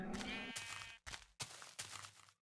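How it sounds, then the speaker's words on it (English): Sheep in the Minecraft video game bleat in several wavering game-sound bleats, one long call followed by shorter ones with brief gaps. They are loud and clear, with no talk over them. "It's got a shitload of sheep."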